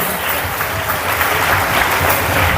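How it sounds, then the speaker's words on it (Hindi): A church congregation claps together in worship, a dense, even burst of applause filling the room and holding steady throughout. "ताली बजा के प्रभु के नाम का महिमा करें।"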